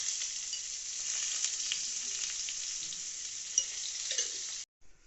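Pointed gourd slices fry lightly in oil for a Bengali fish curry, giving a steady close sizzle with no voices that cuts off abruptly near the end.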